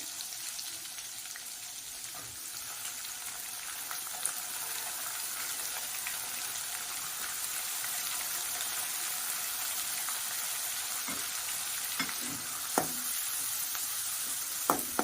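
Raisins fry in a pan while sweet vermicelli is being made, giving a continuous crackling sizzle for about fifteen seconds, with occasional sharp clicks and scrapes from stirring, close and steady.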